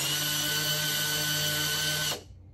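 A handheld power drill whirs steadily in reverse with a high, even motor whine, running close and alone for about two seconds before stopping abruptly.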